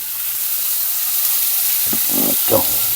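Meat patties of about 100 to 120 grams frying in a covered pan on a camper van stove, a steady loud sizzle and hiss with a few louder spits and bubbling near the end.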